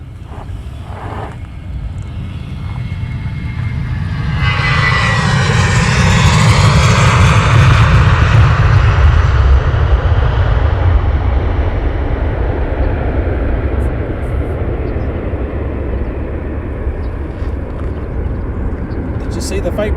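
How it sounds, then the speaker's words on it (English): A Ryanair airliner taxis at London Luton Airport, its engine roar swelling loud and near midway, then settling into a steady rumbling drone, with a voice talking over it at times. "Ryanair's taxied out."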